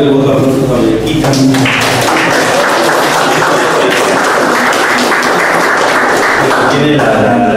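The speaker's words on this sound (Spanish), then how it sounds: "Bien, vamos a devolver el voto de aplausos a Bellaquita." Audience applause at a medical presentation event, a dense, steady wash of clapping lasting several seconds at close range, with some voice-like tones mixed in near the start and end.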